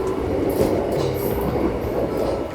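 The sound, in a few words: train bought from Japan, running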